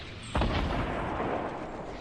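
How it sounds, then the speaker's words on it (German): Gunfire in Fortnite Battle Royale, a single heavy booming shot followed by a long rumbling decay, loud and close, with no voices. "die schießen ohne Ende am Loot, schau hin"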